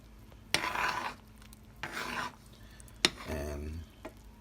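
Chicken soup stirred in a pot with a spoon, three separate scraping, swishing strokes close by, each lasting about half a second, with brief pauses between them.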